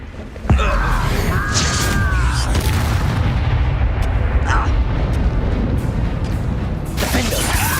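A blasting spell explosion in the Hogwarts Legacy video game: a sudden heavy boom near half a second, followed by sustained rumbling, whooshing and scattered impacts, loud and dense, with a voice speaking over it.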